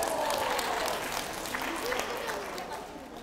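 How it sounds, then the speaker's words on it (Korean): Clapping from a lecture audience, a broad steady patter of many hands that stays loud throughout, then eases slightly near the end. "박수 한번 쳐주시죠."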